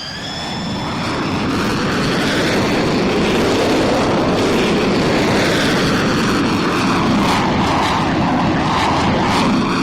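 A loud, continuous airplane engine drone in the Roblox game PTFS, during an airshow, swells in and holds steady, a dense roaring hum with a faint whine on top.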